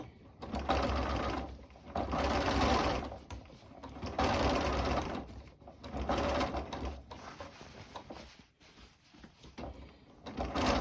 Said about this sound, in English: sew about 2 millimeters from that seam through the facing and the seam allowance